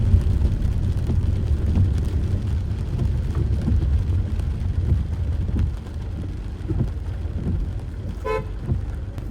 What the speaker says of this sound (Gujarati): અવિરત પ્રમાણમાં વરસાદ પડે છે બોડેલીમાં, જે છોટાઉદેપુર જિલ્લામાં આવેલું છે